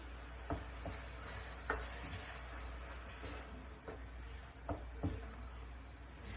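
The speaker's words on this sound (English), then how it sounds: "just fry the masala with the tomato and the onion for about a minute or 2" Masala, tomato and onion frying in a pan for cottage pie, a quiet steady sizzle with occasional soft stirring knocks, and no one speaking.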